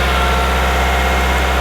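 A diesel engine runs at a steady 1500 RPM during a DPF cleaning procedure, a loud, constant low hum and drone with no change in pitch and no talking.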